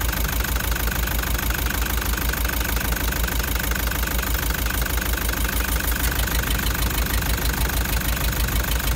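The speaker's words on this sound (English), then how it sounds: "it's blowing straight down through the piston out the bottom, and that compression's blowing out the oil cap there" Car engine idling with a cracked piston, compression blow-by puffing out the oil filler cap: a steady, rapid knocking and chuffing pulse over a continuous mid-pitched engine drone, close and loud, with no talk.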